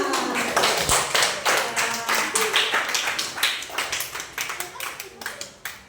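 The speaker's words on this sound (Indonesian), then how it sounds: "Tepuk tangan." A classroom of students claps hands together, a loud, fairly rhythmic run of sharp claps over about six seconds with some voices mixed in.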